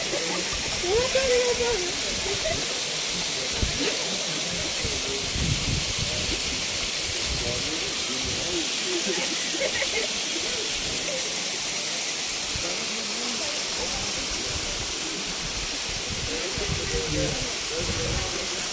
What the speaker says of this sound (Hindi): पूरी आबशार है लेकिन पानी बहुत ही कम है।